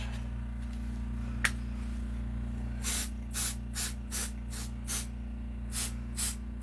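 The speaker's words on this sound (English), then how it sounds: "I'm just spraying mold release on the straps." An aerosol can of mold release sprays in a series of short hissing bursts, roughly nine spurts, over a steady low background hum.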